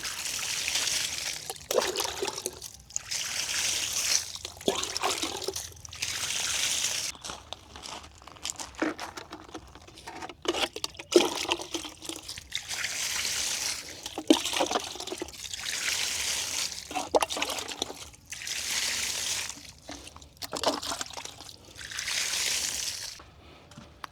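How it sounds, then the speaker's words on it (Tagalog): Water splashes onto plants on a small farm on a hot, dry day, arriving in repeated hissing, spattering bursts separated by short pauses, close by and with no talking. "Diligan po natin yung ating champagne."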